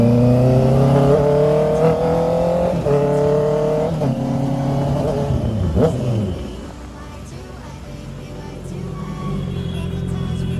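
A motorbike ridden on a highway: the engine drones with rising pitch as it pulls away, then the sound drops and thins out after a few seconds, with faint wind noise.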